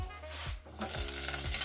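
Garlic infusing in hot oil in a pot while cooking white rice, giving a steady close sizzle with a few soft stirring scrapes and a brief louder burst partway through, no talking.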